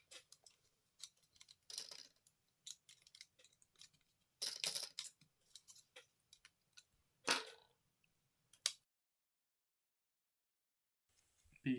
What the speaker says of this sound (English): And use the scissors.